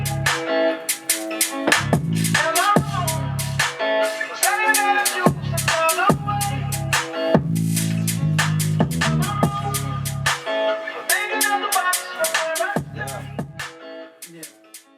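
Hip hop beat with percussion, punchy kicks and a deep 808 bass, playing in a driving loop alongside melodic elements, loud and full throughout.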